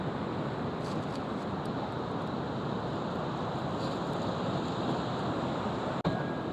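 Saraswati river rushing beneath a bridge near Badrinath in the Himalayas, a steady broadband roar of turbulent water filling the whole clip at close range, with a brief knock near the end.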